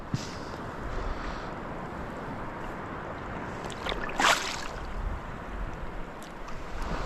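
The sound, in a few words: waves on the water while fishing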